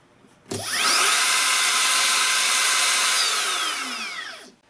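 A Makita 40-volt cordless router motor spins up sharply, holds a loud steady high-pitched whine for about four seconds, then winds down quickly as it brakes.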